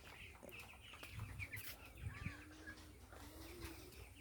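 Chickens at a farm built on one side of a large pond cluck and call in scattered bursts, fairly faint against a steady outdoor background with no talking.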